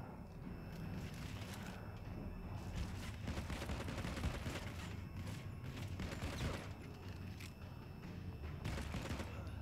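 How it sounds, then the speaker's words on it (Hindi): Gunfire in the mobile shooter Modern Combat 5, with scattered pistol shots cracking at irregular intervals over a bed of mechanical clatter and game ambience, moderately loud. "वाह पिस्टल से हेडशॉट।"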